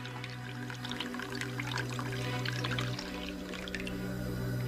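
Water pours in a thin, continuous trickle from a replica of Philon's ancient automaton into a chalice. The splashing is close and fairly quiet, with no speech over it.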